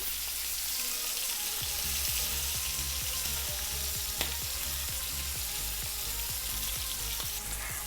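Shrimp searing in a hot pan, a steady loud sizzle running throughout with a series of rhythmic soft taps from flipping or pressing, plus one sharper click midway; no voices.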